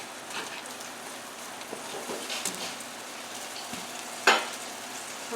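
Butter sizzles and crackles in a pan at the start of a roux for shepherd's pie, a soft steady frying hiss with occasional pops and one sharper clink, close by and with no talking.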